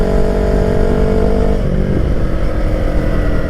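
Yamaha R3 motorcycle fitted with a new aftermarket exhaust: a loud, close, continuous engine drone with a rough throaty growl and a slight shift in pitch midway, and no voices.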